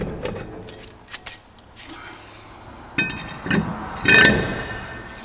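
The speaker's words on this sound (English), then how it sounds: "So let's pull the drum off." A brake drum is worked loose and pulled off a Toyota Tacoma, giving scattered metallic knocks and clinks, then a louder scraping clank near the end, close by with brief speech between.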